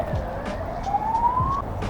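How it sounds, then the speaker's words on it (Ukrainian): Fire engine siren on a street in Odesa, a single rising wail climbing steadily over steady traffic noise, moderately distant and drawing nearer. "Пожежна сюди вже їде."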